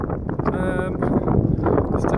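Gusty wind buffets the microphone with low rumbling bursts, while a voice speaks faintly underneath.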